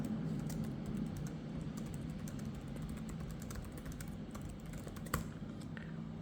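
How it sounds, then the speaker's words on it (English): Rapid, steady keystrokes clatter on a Lenovo ThinkPad X1 Extreme Gen 3 laptop keyboard up close, with a slightly louder tap near the end over a low background hum. "let me type something for you and you'll see how good it is"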